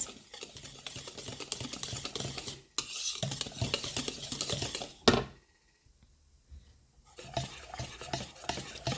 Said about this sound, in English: Then simply mix it until no more lumps.